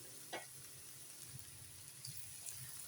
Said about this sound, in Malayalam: ഇതെല്ലാം ഇതേപോലെ വറുത്ത് പോരണം